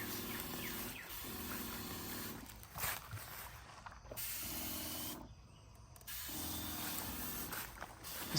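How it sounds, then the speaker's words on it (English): A battery-powered sprayer mists a lawn in steady hissing bursts of a second or two, each broken off by brief pauses, heard close under a faint motor hum with occasional footsteps. "It's so nice not to have to pump your sprayer, and this thing really sprays so evenly."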